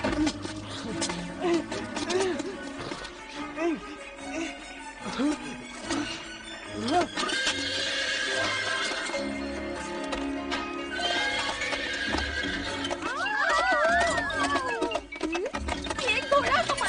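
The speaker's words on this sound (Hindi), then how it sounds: "ये घोड़ा हमारी रसोई में क्या कर रहा है?" A cartoon horse neighs and whinnies inside a kitchen, mixed with music and busy sound effects, while voices talk over it.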